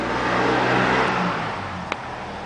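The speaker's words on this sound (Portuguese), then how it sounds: "Olha o carro passando, ó." A car passes nearby with a broad whooshing engine and tyre roar that swells, then fades away, ending with a brief sharp click.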